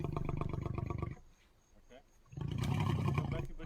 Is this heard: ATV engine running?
no